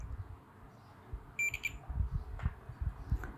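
Continuity tester on a laptop board giving a short burst of quiet high-pitched beeps while probing a capacitor, over low background noise.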